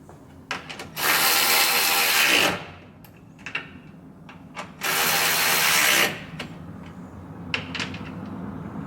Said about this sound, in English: Now putting the bolts back in that actually hold the condenser back to these plastic brackets.